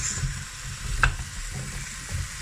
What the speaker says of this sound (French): Je mets avec un peu d'huile d'olive, du sel, le poivre je mettrai après, un peu de beurre. Je vais faire revenir tout ça.